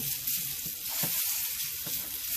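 Pork chops browning in a hot pan give off a steady, close, crackling sizzle, broken by a couple of soft thumps as they shift, with no voices.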